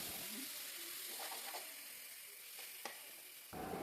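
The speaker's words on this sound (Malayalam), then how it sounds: "നമുക്ക് ഉള്ളി ചതച്ച് വെച്ചത് ഇടാം അപ്പോൾ ഇത് എല്ലാം കൂടി നമുക്ക് നന്നായിട്ടൊന്ന് മിക്സ് ചെയ്ത് കൊടുക്കാം" Crushed onions fry in a hot pan with a steady broadband sizzle, broken by a few brief scraping stirs of a spoon and a louder hiss burst near the end.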